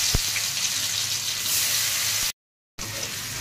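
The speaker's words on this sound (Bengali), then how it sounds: "টমেটোগুলো একটু ভেজে নেব।" Tomatoes fry in hot mustard oil in a wok with a steady, close hiss and crackle, briefly cut to silence before the sizzle resumes.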